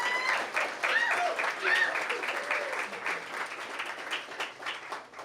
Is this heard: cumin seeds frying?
no